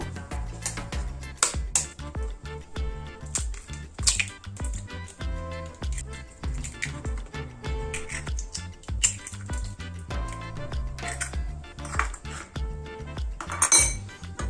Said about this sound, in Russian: Взбиваем яйца.